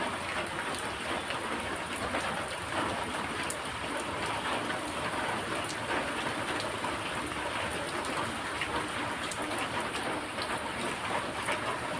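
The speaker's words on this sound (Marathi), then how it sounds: "बाहेर पळय काय बरो पावस पडटा, बरो थंड पावस पडटा." Cold rain falls steadily outside, a dense, even hiss of drops on surfaces that holds unbroken and fairly loud for the whole stretch, with no voices.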